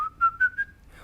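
A person whistles a short, merry tune of three quick, bright notes that slide slightly upward, then fades out within about a second.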